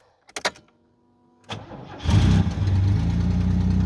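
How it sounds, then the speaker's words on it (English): A 1987 Pontiac Fiero's engine cranks after a couple of clicks, catches with a burst near two seconds and settles into a loud, steady idle up close. "Car starts, which has never been a problem."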